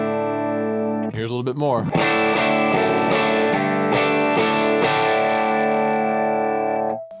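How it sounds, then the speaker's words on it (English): An electric guitar runs through chorus and echo effects, softly picked chords ringing out with a shimmering sustain after a short spoken line, then fading away. "Now watch what happens when I don't aggressively hit the guitar."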